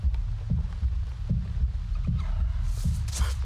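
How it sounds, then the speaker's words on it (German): A steady, deep thumping heartbeat in Avatar: Frontiers of Pandora, pulsing about twice per second under a low rumbling game ambience, with a faint breathy swell near the end. "Herzschlag wird immer schneller"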